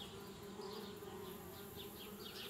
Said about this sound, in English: Darn bees, trying to move into our tree house.